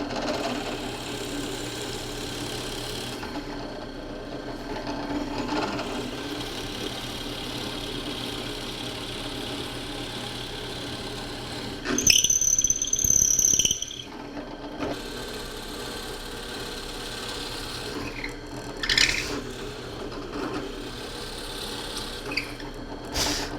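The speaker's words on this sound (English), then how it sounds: "this is a 5/8 of an inch Forstner bit" A 5/8 inch Forstner bit boring into clamped wood for a Moxon vise, a low motor drone with a short louder whining burst of cutting midway and brief grinding surges after.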